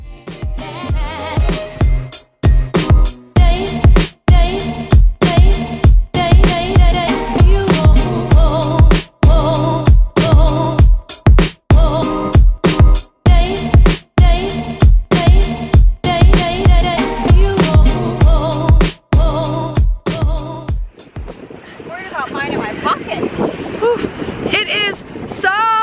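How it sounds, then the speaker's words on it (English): Strong wind blasts across a UK beach at Camber Sands, roaring and buffeting loudly and almost without a break for about twenty seconds before easing. "Coming to a UK beach, this amount of wind. This is absolutely crazy."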